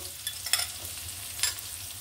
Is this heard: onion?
yes